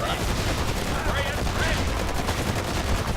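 Units firing in the Forged Battalion real-time strategy game, a continuous dense crackle of rapid gunshots with a little louder bursts, filling the whole moment at close range while a voice is faintly heard under it.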